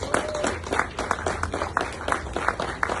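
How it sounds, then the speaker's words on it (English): Audience applause after a call for a big round of applause at a keynote to police college instructors, with scattered claps in a steady patter and a speaking voice faintly audible over it. "Give him a massive round of applause."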